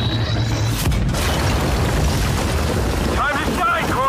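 A chunky missile explodes in the sci-fi game Aliens: Dark Descent, giving a loud, broad roaring blast that rumbles on for several seconds. Brief high whistling tones come through near the end.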